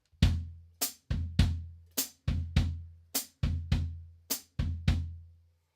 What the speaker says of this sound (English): play the samba right foot and left foot or bass drum and hi-hat pattern